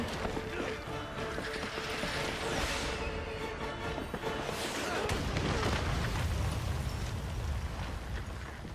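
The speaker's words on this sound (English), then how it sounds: "it'll make an explosion" A rumbling explosion in the Resident Evil 6 video game, a dense, sustained roar of blast and debris that swells and lingers loudly for several seconds, with no voices over it.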